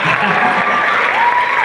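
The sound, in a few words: audience applause at a choir competition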